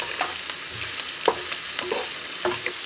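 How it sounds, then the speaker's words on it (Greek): Rice frying with cumin and allspice in a pan, stirred with a utensil that scrapes and taps in irregular strokes over a steady soft sizzle, close by with no voices. "Ανακατεύουμε συνεχώς να μην αρπάξει το ρύζι."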